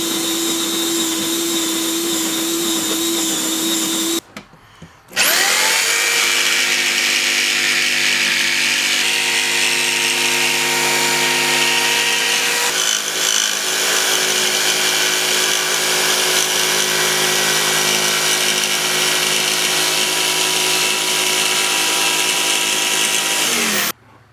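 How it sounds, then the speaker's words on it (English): A jigsaw cuts a round hole in a wooden cornhole board, a loud continuous buzzing whine that stops briefly, then restarts and runs steadily for a long stretch before cutting off. "I'm just going to draw the circle, use a jigsaw to cut it out, and then sand back to the line to get a nice smooth hole"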